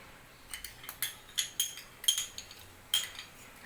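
Spoon clinking against a bowl while kofta ingredients are stirred together with yogurt, a string of light, quick metallic taps and scrapes, close and fairly quiet with no talking.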